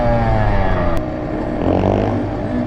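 Kawasaki KX112 two-stroke dirt bike engine buzzes and revs nearby, a raspy, rising and falling drone with rider chatter mixed in.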